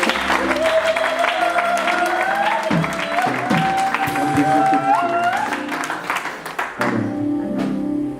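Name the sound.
congregation applauding and acclaiming the Lord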